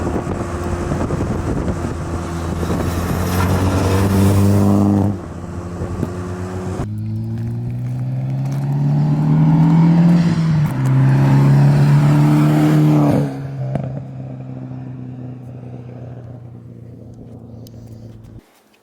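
A Miata driving during a roller shot with a person hanging out the back: steady engine drone with rising and falling pitch through gear changes, heavy wind rush, and a sudden drop to quieter cruising near the end.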